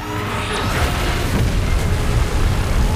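A Godzilla beam blast in PUBG Mobile roars as a heavy, continuous boom with deep rumble and broad hiss, loud and steady throughout without any speech.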